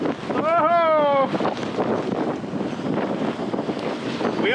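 Strong wind of about 25 knots roars steadily across a sailboat under way, a continuous broadband rush with water noise beneath; a voice calls out briefly near the start.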